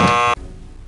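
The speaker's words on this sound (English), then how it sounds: "Sorry about that buzzer." A buzzer in the Nancy Drew game Stay Tuned for Danger gives one loud, steady electronic drone of about a third of a second, then cuts off sharply into near silence.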